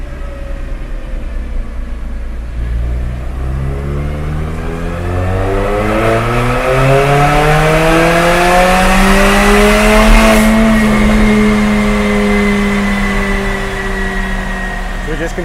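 Mercedes-Benz CLA45 AMG with a catless stainless steel Armytrix Valvetronic turbo-back exhaust, revving up through the range on a dyno in one long rising pull, then easing off, loud and close.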